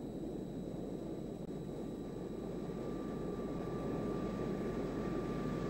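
Aircraft taking on fuel in flight from a KC-135 tanker, heard as a steady, dense, low engine roar with a faint whine on top, unchanging and continuous throughout.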